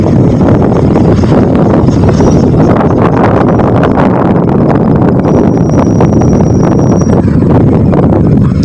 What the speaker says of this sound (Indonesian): Angin cukup kencang rekan ya.